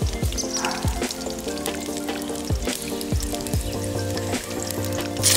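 Pork jowl fries with unpeeled garlic cloves and rosemary, making a loud, dense, continuous sizzle and spatter with frequent bubbling pops and no speech over it.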